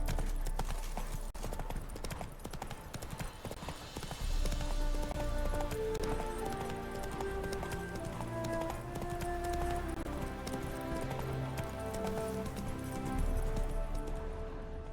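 Hooves of a galloping horse in The Witcher 3 drum in a fast, continuous clip-clop, close and prominent, with game music or ambience underneath and little talk.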